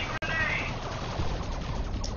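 Shuriken Cannon firing in a tabletop-style strategy video game match, a rapid stream of light shots with a sharp crack at the start, steady and moderately loud.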